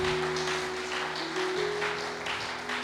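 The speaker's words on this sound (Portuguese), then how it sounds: "Vamos aplaudir ao Senhor." A church congregation claps steadily as a broad wash of applause over sustained organ or keyboard chords, moderately loud and continuous, without a clear individual voice.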